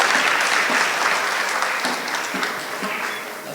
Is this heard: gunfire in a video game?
no